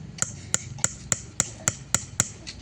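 Eight sharp, evenly spaced taps of metal striking a hard surface, like a nail being knocked through to punch holes, close and steady with no talking.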